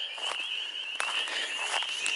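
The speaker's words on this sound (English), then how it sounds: "The frogs are singing." Frogs sing steadily at a pond in early spring, a continuous high trilling chorus running throughout at moderate distance with no voices.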